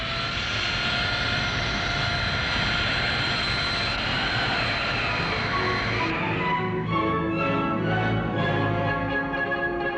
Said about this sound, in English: the planes trundle out from under the trees under their own power